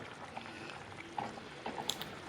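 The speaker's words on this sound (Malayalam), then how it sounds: "5 മിനിറ്റ് കഴിഞ്ഞ് മൂടി തുറന്ന് നോക്കിയപ്പോൾ കറി നന്നായിട്ട് തിളച്ച് വന്നിട്ടുണ്ട്" Kerala sardine fish curry bubbling in a pot, soft gurgles and small pops from the simmering liquid, quiet and close with no talking.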